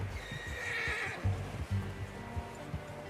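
A horse in Red Dead Redemption 2 whinnies loudly for about a second, then snorts and stamps as hooves clop unevenly up close.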